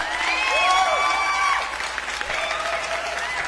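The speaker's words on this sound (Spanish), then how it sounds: "¡Aplausos!" A live crowd at a band's show claps steadily, with a few cheers and whistles over the applause, and the clapping eases off after a couple of seconds.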